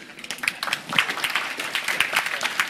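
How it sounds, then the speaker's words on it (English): An audience at a technology talk gives a short burst of applause, with brisk, scattered clapping throughout and a few cheers mixed in. "Round of applause."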